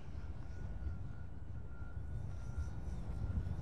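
A fixed-wing RC plane flies outdoors in wind over a grassy field, giving a steady low engine or propeller drone with a faint high whine. It holds at an even level throughout, with no talk over it.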